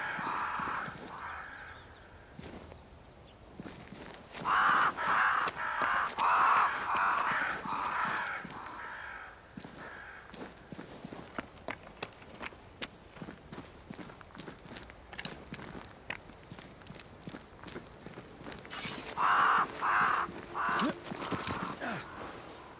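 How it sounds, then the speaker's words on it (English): Crows cawing in bursts around a great tree in Banishers: Ghosts of New Eden, harsh repeated calls rising and falling over the crunch of footsteps walking through the game world. "Crows. They flock to that great tree up there."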